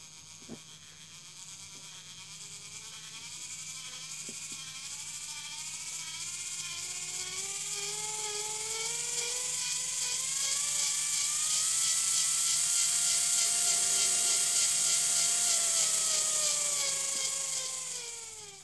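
Small DC gear motor running on a PWM speed controller, a steady high-pitched whine with a buzzing gear hum that rises gradually in pitch and loudness, then eases off near the end, close and alone.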